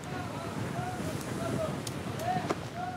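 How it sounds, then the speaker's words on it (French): Wind at 40 km/h and rolling swell aboard the French tall ship Hermione at sea, a steady loud rushing with soft wave washes and faint creaks throughout. "Le vent souffle à 40 km à l'heure."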